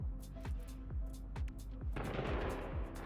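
Fireworks fire in the space game No Man's Sky, a run of sharp booming pops in a regular rhythm followed by a crackling burst, fairly loud and close.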